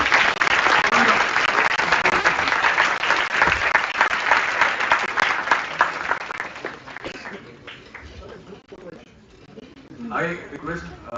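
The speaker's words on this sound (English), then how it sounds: "So let's have a great round of applause for" Loud round of applause from a large audience at a design institute talk, dense clapping that fades after several seconds, with a voice speaking over the tail end.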